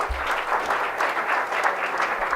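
A convention audience claps steadily after a pair of speakers finish their debate, with dense, even applause sustained throughout and no voices rising above it.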